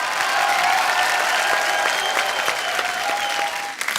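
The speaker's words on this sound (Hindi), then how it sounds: "खुल के तालियां हो जाए हमारे आज के सारे मेहमानों के लिए।" Studio audience on a Hindi comedy talk show bursts into sustained, dense applause filling the hall, steady and loud throughout before tapering slightly at the end.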